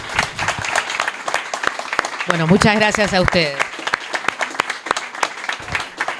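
Audience applause at a talk in the Ciclo de Diálogos, scattered claps running throughout under a speaker's closing thanks.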